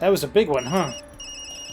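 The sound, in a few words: phone ringing in the video game Tokyo Dark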